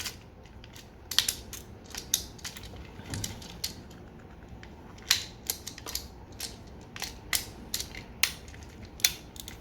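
Plastic parts of a Tobot transforming robot toy snap and click in scattered sharp bursts, some quick double clicks, close up against a quiet room with no talking.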